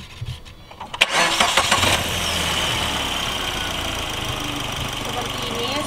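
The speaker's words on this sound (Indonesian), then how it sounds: "sekarang biar kalian bisa mendengar dari suara mesin ini" A 2013 Suzuki Ertiga car engine, 1500 cc, cranks with a few sharp clicks, catches, then settles into a steady, fairly loud idle that hums on without pause.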